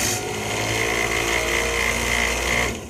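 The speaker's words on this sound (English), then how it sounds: "you want to stop your lathe" A lathe spins at steady speed during a pool cue tip repair, giving a continuous motor whine with a faint high tone. It runs close and unbroken, then cuts off at the end.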